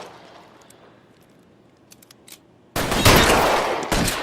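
Gunshots in L.A. Noire burst out suddenly after a quiet stretch with a few soft clicks, then continue as a loud, close volley of rapid shots.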